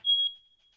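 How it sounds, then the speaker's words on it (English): A single short high-pitched chirp from an apartment smoke alarm, one clear electronic beep that fades quickly into silence. "Yep, that's my smoke alarm."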